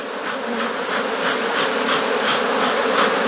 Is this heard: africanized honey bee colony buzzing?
yes